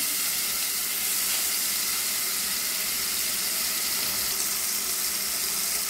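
Beef steak searing in a hot pan, giving a loud, continuous broadband sizzle and hiss that holds steady throughout with no talking.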